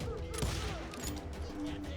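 Gunfire in the Call of Juarez Gunslinger video game, a distant battle of overlapping shots and crackling volleys, fairly faint, with shouting voices mixed in.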